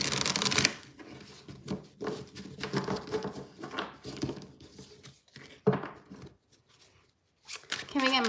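Tarot cards are shuffled by hand in a series of close, crisp riffling and sliding bursts separated by short pauses, ending with a sharper riffle.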